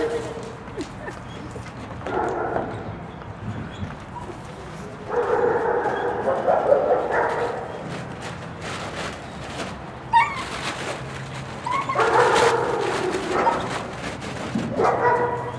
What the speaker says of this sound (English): Here he's learning he has to bark to get his toy to come to him.